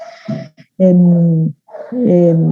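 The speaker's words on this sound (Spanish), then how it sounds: "disculpen la música de fondo de los perros" Dogs bark in two loud, drawn-out bursts close to the microphone, howling and whining more than snapping, with brief gaps between them.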